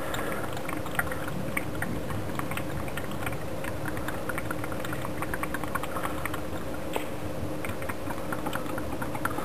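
New motor oil poured into a truck engine during a routine oil change, a steady soft glugging trickle that runs continuously at close range with no talking.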